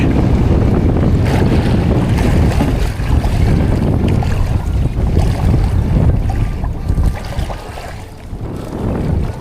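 Sea waves surge around a small fishing boat out after tamban, a dense continuous wash of water and wind buffeting the microphone, loud and steady with no voices.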